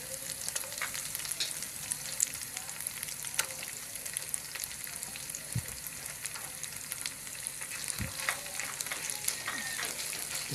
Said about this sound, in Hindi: इसको दूसरे प्याज के साथ अच्छी तरह से गोल्डन कर लेंगे।